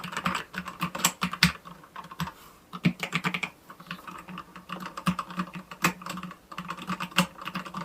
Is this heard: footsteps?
no